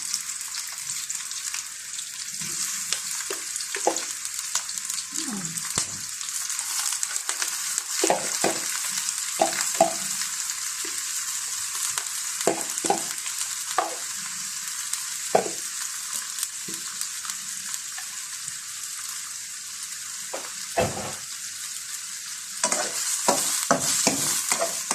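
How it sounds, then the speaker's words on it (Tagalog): Mixed seafood fries in a pan, a steady bright sizzle with frequent scraping and clattering of stirring, close and continuous without talk. "Pwede na natin isunod ang ating mixed seafood."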